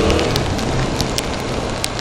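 Steady rain patters on a surface close by while riding a Honda CB300R motorcycle, a dense, even hiss of drops with no voices.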